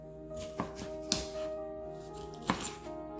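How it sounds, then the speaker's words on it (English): A knife chops red, yellow and green bell peppers on a cutting board for beef stew, a few sharp close thuds spaced irregularly over steady room hum, with no talking. "So let's start chopping our vegetables."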